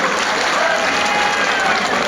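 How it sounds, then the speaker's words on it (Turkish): At a traditional Turkish oil wrestling festival, the crowd applauds in a dense, even wash of clapping that stays loud the whole time, with no voices above it. "Hep birlikte alkışlıyoruz."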